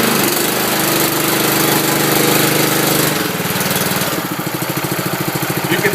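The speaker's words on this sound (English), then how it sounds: "The vibration, the blade itself, cutting action" A Billy Goat power rake dethatcher runs loud and close, its engine roaring steadily and then settling into a rapid chattering pulse as the blade cuts into the lawn.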